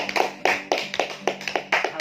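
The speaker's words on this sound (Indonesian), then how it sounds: "Berikan tepuk tangan untuk Tuhan" Rhythmic clapping in an Indonesian church service, roughly steady beats about four per second, close and crisp, with a low hum running underneath, as though a few people or a small congregation claps in time.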